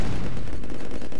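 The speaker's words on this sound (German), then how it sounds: "Und der Grenadier, der schießt auf den Panzer drauf." A grenadier fires at a tank in Command and Conquer Remastered amid a dense, loud barrage of gunfire and explosions filling the whole moment, continuous and close with no clear gaps.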